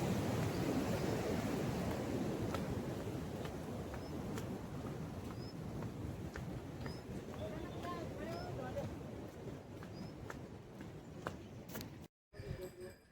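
The Yamuna river near Yamunotri rushes as a steady, close broadband roar throughout, with faint voices and a few brief clicks over it, cutting out briefly near the end.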